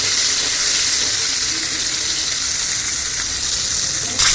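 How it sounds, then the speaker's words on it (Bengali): Eggplant slices frying in a pan of oil give a steady, loud, dense sizzle that holds without a break, with a brief clatter near the end. "বেগুনগুলো ভাজা হয়ে গেছে"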